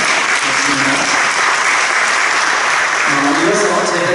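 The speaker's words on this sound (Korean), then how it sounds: "다시 한번 뜨거운 박수 한번 해주시겠습니다." An audience at a church general assembly candidates' policy debate claps warmly, a dense, loud, continuous applause with a few voices faintly under it.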